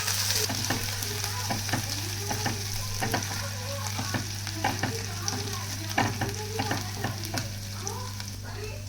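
A tempering of mustard seeds, asafoetida, ginger, chillies and curry leaves fries in hot oil for vada pav filling, a close steady sizzle broken by sharp spatula scrapes and stirring clatter throughout.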